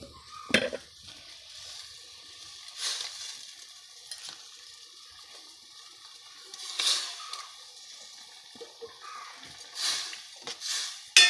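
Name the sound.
fish head added to boiling fish curry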